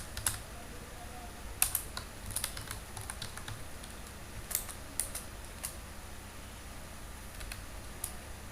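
Code is typed on a computer keyboard in short irregular bursts of light clicking keystrokes, close and fairly quiet over a faint steady background hum.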